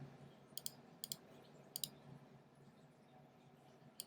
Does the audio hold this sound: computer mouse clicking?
yes